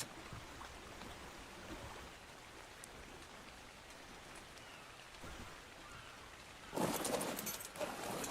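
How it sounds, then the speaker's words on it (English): Steady rain falling in a game's island setting, a faint continuous patter and hiss throughout, with a brief louder splash of noise near the end; no voices. "It's raining."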